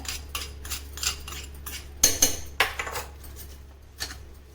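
Spoon and metal vessel clinks as a peanut chutney powder tempering is scraped and moved into another pot, a string of short scrapes and taps with a louder cluster in the middle, close and fairly quiet.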